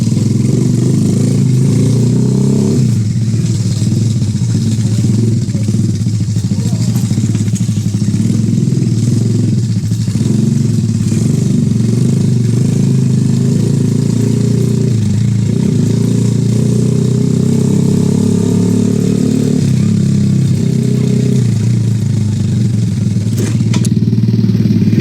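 A favourite motorcycle idles and revs steadily up close, its engine loud and continuous with occasional clatter, and no talk over it.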